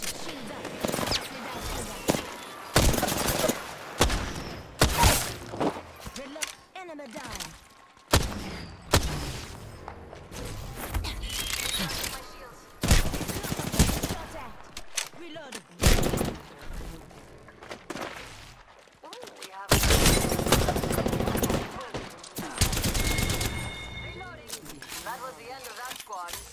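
Gunfire in the battle royale game Apex Legends, with repeated bursts of rapid shots and single booming reports coming in clusters throughout, some close and loud, under frequent spoken callouts.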